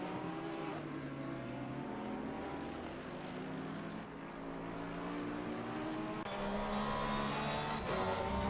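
Onboard engine of a Porsche GT race car at the Nürburgring in Assetto Corsa Competizione, a continuous droning whine whose pitch rises and falls through gear changes, heard close with no voices.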